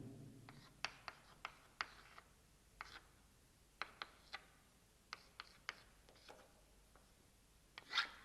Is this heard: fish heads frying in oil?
no